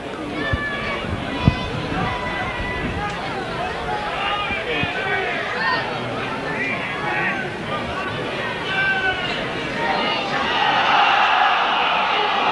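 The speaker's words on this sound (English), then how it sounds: "the crowd at the far side, calling for a knock on" A rugby league crowd at a York versus Keighley match keeps up a steady, diffuse roar of chatter and shouting from the far side of the ground. The noise swells slightly near the end, and no single voice stands out.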